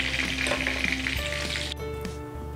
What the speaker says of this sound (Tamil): ஃப்ளேமை மீடியம்லேயே வச்சு பொரிச்சிடுங்க